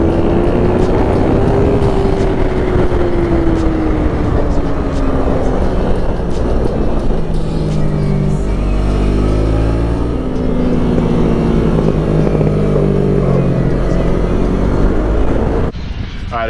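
MiniGP bikes racing around a track, high-pitched small engines revving and whining loudly as several pass close and fade, with a voice heard over the engines.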